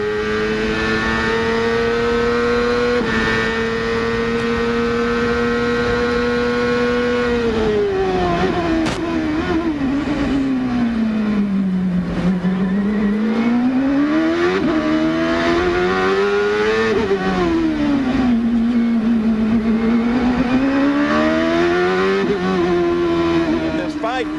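Indy race car engine riding onboard through the 1999 Toronto street circuit, loud and continuous, holding a steady high drone, then dropping and climbing repeatedly as it brakes, downshifts and accelerates through corners.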